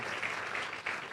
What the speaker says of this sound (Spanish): Aplaudamos al Señor.